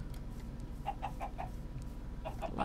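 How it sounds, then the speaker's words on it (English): Minecraft chickens cluck in short, soft bursts over a low droning hum, first a quick run of four clucks and then another cluster near the end. "There's chickens."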